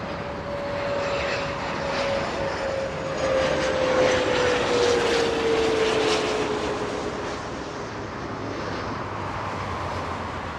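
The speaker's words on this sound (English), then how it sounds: "United Dreamliner. United 923 flying to London." A United Airlines Boeing 787-9 Dreamliner jet at Los Angeles International Airport roars steadily and fairly loud, with a descending engine whine running through the broad rumble for about ten seconds.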